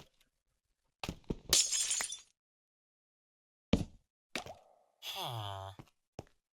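Blocks of glass break in Minecraft with crisp, crackling shatters, separated by short pops and a low bubbling plop, spread across a few seconds with gaps of silence between.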